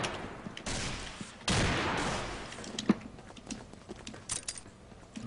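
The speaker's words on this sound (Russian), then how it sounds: "Цезар сейчас как раз стреляет во внутренний туннель из РПГ." RPG fired into a tunnel during a competitive shooter match, a loud blast followed by a sustained roar that slowly fades, set among scattered clicks, light distant shots and game noise, with no talking.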